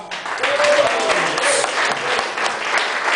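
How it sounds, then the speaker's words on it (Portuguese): Loud, sustained applause from a crowd, dense clapping filling the whole stretch with a voice faintly audible underneath. "Mais forte para Jesus as palmas."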